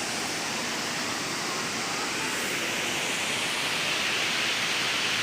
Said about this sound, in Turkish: Burası Osmaniye'nin Düzüçi ilçesinde bulunan Karasu Şelalesi.